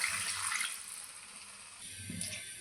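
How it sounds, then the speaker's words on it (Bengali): Water poured into a pan of spiced potatoes, heard as a brief close splashing pour that fades, then a second short burst of liquid, with no voices. "দিয়ে দিচ্ছি জল"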